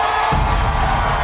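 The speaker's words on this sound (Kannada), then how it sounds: "ಓಕೆ, ಬರ್ಲಿ ಜೋರ ಚಪ್ಪಾಳೆ." Studio audience on a Kannada TV game show, a dense burst of crowd applause and cheering that swells in after a brief moment and stays loud and steady to the end.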